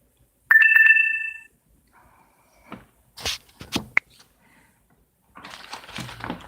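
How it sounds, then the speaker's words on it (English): A phone chimes its low-battery alert as a short, bright two-tone beep, followed by faint scattered rustles and handling noises in a quiet room. "My phone just chimed the first time saying, I'm gonna die on you."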